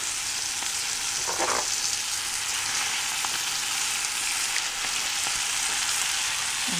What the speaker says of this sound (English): Butter is melted. Toss in your kale.